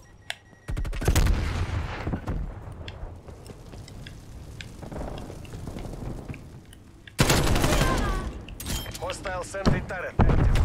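Sentry turret gunfire in Black Ops Cold War: dense bursts of rapid shots start early and run through most of the clip, swelling loud again near the end, with voices talking over parts of it.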